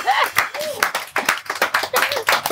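Studio audience clapping in quick, uneven bursts close to the microphone, with voices talking and exclaiming over the claps.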